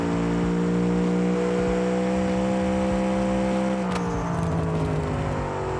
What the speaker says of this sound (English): Probably use some nitrous now.